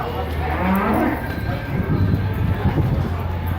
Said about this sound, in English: Look at those cows